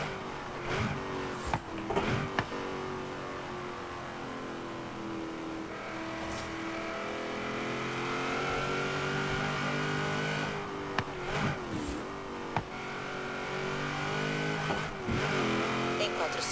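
A V8 car in the racing game Forza Horizon 3 drones steadily, its engine pitch rising and falling as it accelerates, with several brief sharp surges and shifts across the run.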